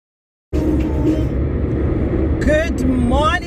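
Car cabin interior while driving on a road, a steady low rumble of engine and road noise that starts abruptly after a moment of silence, with a person talking over it throughout.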